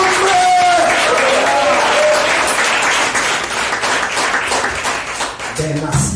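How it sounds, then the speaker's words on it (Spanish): A church congregation applauds loudly, a dense wash of many clapping hands with voices calling out over it, fading slightly toward the end. "Dale un aplauso a la gloria de Jehová"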